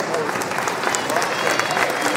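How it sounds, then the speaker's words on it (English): Crowd at a high school basketball game applauding the East Central Trojans, a dense continuous roar of clapping filling the gym with an announcer's voice over it. "Now, a big round of applause for your East Central Trojan."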